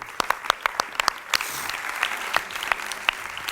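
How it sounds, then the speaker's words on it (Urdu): A studio audience at a televised Ramadan iftar show breaks into a brief burst of applause, with sharp, quick claps that thin into scattered clapping, heard alone at moderate volume. "یہ تالیوں والی بات ہے"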